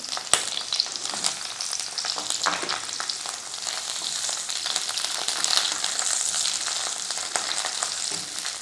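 Chopped large onions frying in hot oil, a dense continuous crackling sizzle close by, with occasional scrapes and stirring clicks throughout.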